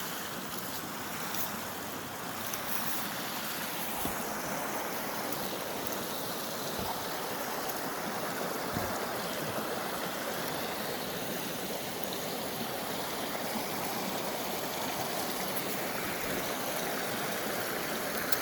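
A high, fast-flowing stream rushes in a constant broadband wash of water, steady and moderately distant, with no talking.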